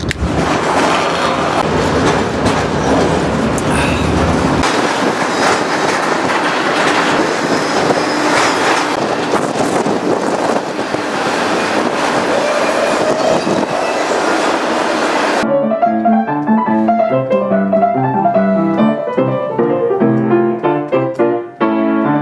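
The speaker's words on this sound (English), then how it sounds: "It's got trains going in all kinds of directions." A freight train rides the rails on a trip toward Birmingham, with loud, continuous rumble and clickety-clack, then a shift to rhythmic, tonal wheel and car noise in the final stretch.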